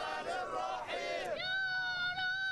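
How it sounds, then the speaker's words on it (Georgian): Crowds in the streets of Cairo shout and celebrate after a court verdict, many voices raised together in sustained chanting cries that swell and then settle into a steadier, higher-pitched collective yell. "ვერდიქტის გამოტანას კაიროს ქუჩებში ცეკვით, ლოცვით და შეძახილებით შეხვდნენ"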